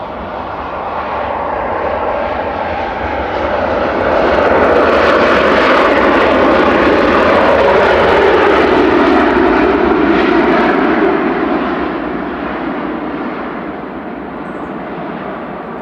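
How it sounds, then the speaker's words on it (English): A Ryanair jet arriving from Gdansk touches down at Manchester, a loud, broad engine roar that rises, peaks for several seconds as it passes close, then slowly fades, with no talking over it. "That's Ryanair touching down from Gdansk there"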